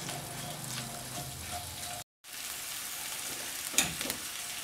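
Sliced bell pepper and onion frying in oil in a wok, a steady close sizzle with a brief cut in the middle and a few faint clinks of stirring.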